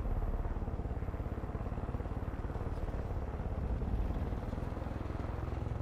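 A helicopter in the video game Far Cry 5 makes a steady rumbling drone with a faint rhythmic chop, continuous and moderately loud throughout.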